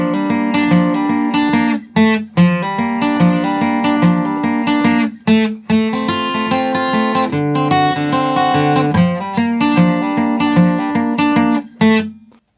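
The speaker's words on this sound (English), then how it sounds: "I've chosen to do this little banjo part, which sounds like this" Guitar picks out a banjo-style part from a song, bright rolling plucked notes with hammer-ons, brief pauses between phrases, played close and alone.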